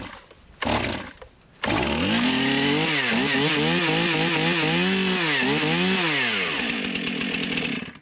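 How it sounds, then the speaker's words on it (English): A Stihl chainsaw set at half choke is pull-started: a brief cord-pull rasp, then the engine catches and runs loud and close, revving up and down in repeated surges before settling. "Okay, now I will pull until it starts."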